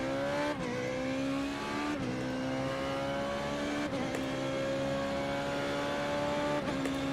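A Formula B race car engine at Spa-Francorchamps in the iRacing sim drones steadily and loudly, with rising revs and several sharp gear shifts as the pitch drops and climbs again, with no talking.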